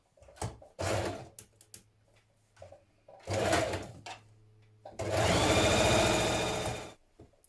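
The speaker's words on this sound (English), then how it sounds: "So we're going to sew both sides on first of all." A sewing machine stitches the side seams of a hoodie in several bursts, from short to long, with quiet handling noises between runs. The final sustained run is the loudest.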